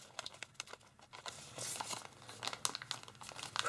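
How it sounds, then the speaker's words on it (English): Paper is folded and creased for an origami Labrador dog, giving soft, close crinkling and rustling with small sharp crackles, quiet and alone with no voices. "Make a strong crease, unfold, and then make an inside reverse fold of it."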